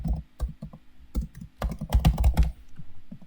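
Keys clack on a computer keyboard during Photoshop editing, a close, irregular run of quick taps with short pauses and a denser burst near the middle.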